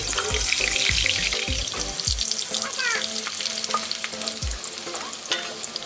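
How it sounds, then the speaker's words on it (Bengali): Potatoes fry in hot mustard oil in a kadai with a loud, dense, continuous sizzle, close by, alongside intermittent low knocks and clatter. "তেল গরম হয়ে গেছে, আমি আলুগুলি দিয়ে দেবো"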